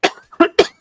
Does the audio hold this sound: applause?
no